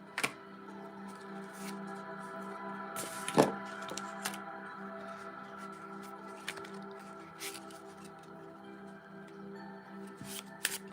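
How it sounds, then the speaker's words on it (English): A deck of playing cards being shuffled and handled in a quiet room, soft repeated riffles and flicks with a couple of sharper card snaps, close and fairly faint. "my playing cards"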